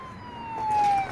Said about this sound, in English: Move for the ambulance!